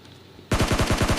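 Rapid automatic gunfire in PUBG Lite, a loud burst of about a dozen close shots in quick even rhythm, cutting in abruptly after quiet game ambience.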